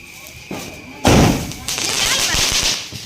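A Diwali firecracker bursts at night with one sudden loud bang, followed by a crackling, hissing tail, while people talk nearby.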